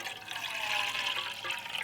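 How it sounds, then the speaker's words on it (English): Hot water streams steadily into a dish-rinsing basin at a wild campsite, a continuous close hiss and splash for a couple of seconds with no speech. "So this is going to come pretty hot, and then I'll add it into that basin"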